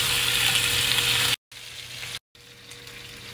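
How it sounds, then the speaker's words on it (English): Lamb chops searing in a hot cast iron frying pan, a steady loud hiss of sizzling fat that cuts out abruptly twice, then returns quieter and continues evenly close by. "Sear them on both sides."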